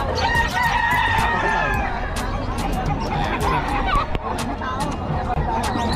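Roosters crow repeatedly among a crowd of gamecocks including a father's blues gamecock at a farm in Bocaue, Bulacan, the calls overlapping amid constant clucking and background chatter from people nearby.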